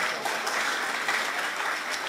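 Audience applause at a career counselling event in Larkana, a short burst of dense, steady clapping from a seated crowd, loud and close throughout.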